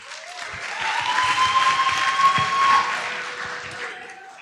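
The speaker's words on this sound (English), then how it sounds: "Let's give a huge round of applause for all the speakers." Audience applause at a senior speech festival rises to a moderate peak and fades out, with a faint ringing tone running through it.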